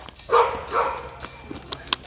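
A dog at Ringing Rocks Park gives two short, mid-distance barks close together near the start, followed by faint scattered knocks and outdoor background noise.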